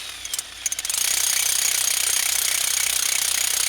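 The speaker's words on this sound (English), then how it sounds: "I'm just going to whack out that core." A brief pause of light taps, then rapid, steady mechanical pounding of a power hammer knocking a drilled concrete core out of a curb, loud and close, no voices.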